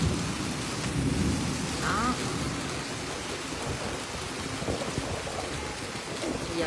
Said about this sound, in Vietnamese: giờ mưa cái mắc kẹt đứng đây luôn,